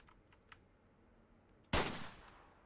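A single loud, close sniper shot cracks out in a shooter game, a sharp burst with a short decaying tail, preceded by faint clicks.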